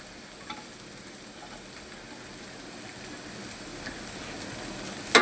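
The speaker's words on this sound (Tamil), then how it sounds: "எல்லாமே வறுத்துக்கணும்." Mixed vegetables with capsicum and beans fry in a pan for egg fried rice, a soft steady sizzle with faint stirring ticks that grows slightly louder toward the end, no voices.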